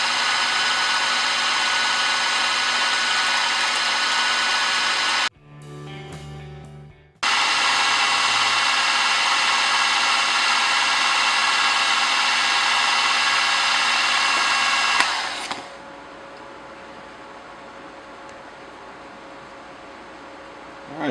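Power tool chamfering the edges of a wooden cylinder, a loud steady whining roar that runs almost throughout, cutting out briefly for about two seconds before resuming and then easing to a quieter hum near the end.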